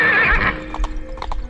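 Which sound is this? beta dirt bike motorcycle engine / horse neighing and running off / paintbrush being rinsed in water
horse neighing and running off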